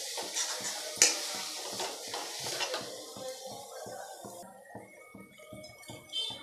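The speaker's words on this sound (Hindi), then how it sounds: "नमक डाल के अच्छे से मिलाएंगे" Mustard greens saag being stirred with salt in a pan for Punjabi-style sarson ka saag, a steady series of soft scraping and clinking spoon strokes against the pan, close and moderately loud with a brief sharper clatter early on.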